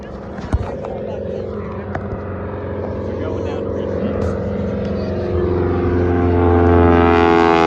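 A Stearman biplane at an air show circles during a car-versus-plane race, its engine drone rising and growing louder and nearer toward the end, with a sharp knock early on and steady background noise.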